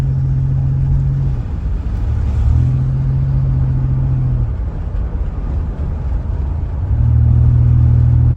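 A 1987 Buick Regal Limited turbo engine pulls hard under acceleration, a steady deep drone that rises and drops as the revs change, heard from inside the car with no talking.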